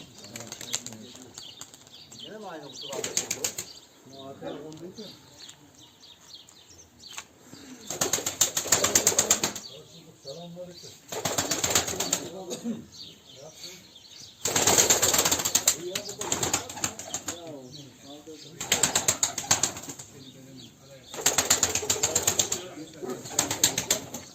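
Bursts of wing flapping from several pigeons come and go in repeated flurries, with people talking and birds cooing faintly in between.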